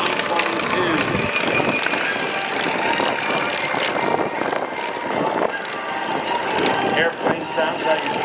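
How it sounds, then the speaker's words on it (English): A Ryan PT-22 trainer flies past at an air show, its radial engine giving a steady, loud, throaty drone with a rough rhythmic beat throughout, mixed with crowd noise and a voice speaking. "Airplane sounds like it's powered by a couple of Harley Davidsons, doesn't it?"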